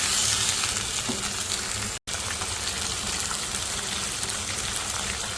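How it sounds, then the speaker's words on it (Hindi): Chicken pieces fry with garlic and ginger in a karahi, a steady close, loud sizzle with light stirring running throughout, broken only by a brief instant of silence midway. "अब मैं इसको थोड़ा भूनूँगी लहसुन अदरक के साथ"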